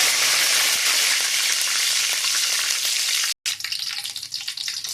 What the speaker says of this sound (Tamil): இப்போ நான் கடுகு போட்டுக்கிறேன். சும்மா 2 வெந்தயம், சீரகம், மிளகு ஆட் பண்ணிக்கிறேன். கருவேப்பிலை ஆட் பண்ணிக்கிறேன்.